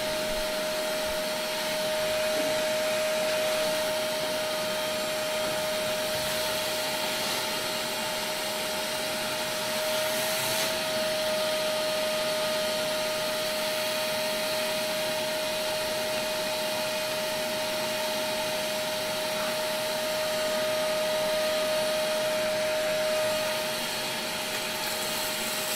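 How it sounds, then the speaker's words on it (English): A vacuum cleaner pulling loose debris and ladder parts through a grain dryer pipe, a steady whining suction hum with a constant tone, broken by faint rattles and occasional clatters of material passing through, and no voices. "You go forward with the vacuum cleaner, you can all hear the sound that stuff is going through the pipe."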